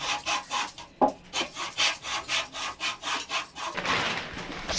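A blade cuts through the sides of an Emma mattress in a steady run of rasping strokes, close and fairly loud, with no talking.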